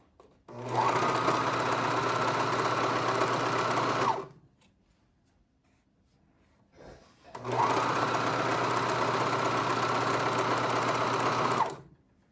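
A sewing machine stitches elastic onto a knit waistband in two long steady runs of about three seconds each, loud and close, with a short quiet pause between them.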